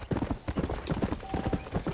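A black horse's hooves clip-clop in a steady, close rhythm on the ground in Red Dead Redemption, with quiet ambient game sound behind them.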